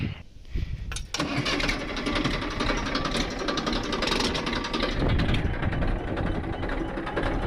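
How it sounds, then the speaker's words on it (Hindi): A tractor engine cranks and catches about a second in, then settles into a loud, steady mechanical rumble that keeps running close by in a farm field. "अब चालू करते हैं अपने ट्रैक्टर को।"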